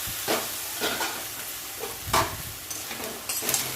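Leafy greens frying in a pan as they are stirred, a continuous soft sizzle punctuated by a few louder scraping strokes at irregular intervals, nearby and without speech.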